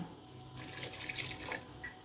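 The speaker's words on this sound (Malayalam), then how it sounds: "കുറച്ചുകൂടെ വെള്ളം ഒഴിക്കുക കേട്ടോ" Water is poured into a pot of Kerala-style mutton curry, a close, quiet stream that starts suddenly, runs for about a second and a half with bubbling splashes, then trails off.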